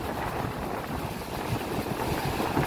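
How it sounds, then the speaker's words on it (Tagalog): Strong typhoon wind roars steadily into the microphone on a rural coast, a constant broadband rush with faint high water and surf underneath, no voices. "ang lakas ng hangin"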